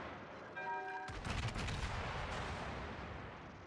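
Naval ship guns firing in a video game, a heavy booming salvo that breaks after a brief tonal beep and rolls into a long, rumbling decay of distant gunfire.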